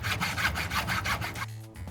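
A steel hammer head is cut with a saw in quick, steady back-and-forth strokes, close and fairly loud, about eight rasping passes before the sawing stops abruptly.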